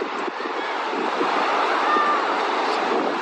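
Ocean waves wash onto a beach in a continuous broad roar of surf, loud and close with steady rushing noise throughout.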